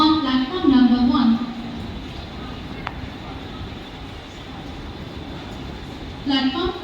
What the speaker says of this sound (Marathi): slow local for Kalyan is arriving shortly on platform number 1